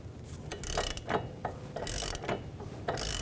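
Ratchet wrench and socket turning off a tie rod nut on a 2011-19 Ford Police Interceptor Utility, rapid close ratcheting clicks and metallic mechanism noise in quick repeated strokes.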